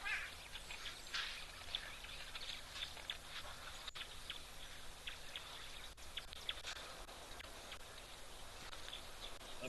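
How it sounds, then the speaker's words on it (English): Harsh, nasal calls of bare-faced go-away birds repeat over a steady bed of outdoor ambience at a waterhole, fairly distant, with scattered chirps throughout. "that noise that we could hear is the barefaced babblers, barefaced go-away birds."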